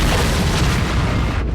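A loud, sustained explosion rumbles through an audio drama scene, a dense roaring blast with debris-like crackle that stays heavy and even, then thins slightly at the end.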